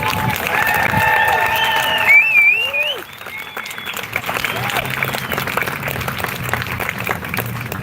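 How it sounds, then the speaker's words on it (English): A crowd at an outdoor Pride event applauds and cheers for high school students, dense clapping throughout with loud whoops and shouts over the first three seconds, then steadier clapping. "Can we get one more round of applause for our high school students?"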